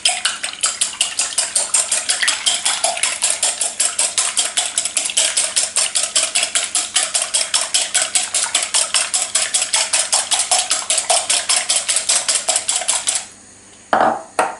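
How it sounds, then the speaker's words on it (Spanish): Two eggs beaten briskly in a bowl with a fork or whisk, a fast, even clinking rhythm that runs steadily for about thirteen seconds. A short pause and a final clatter close it, all nearby with no talk. "Y lo vamos a batir."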